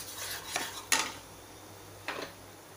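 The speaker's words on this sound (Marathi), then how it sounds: "लाल मिरची पावडर छान मिक्स करून घ्यायचं आहे तेलात." Red chili powder being stirred into oil in a pan while making a raw mango relish, heard as a few brief metal spoon scrapes and clinks against the pan over a quiet background.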